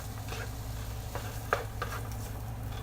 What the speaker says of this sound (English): Stirring the stuff.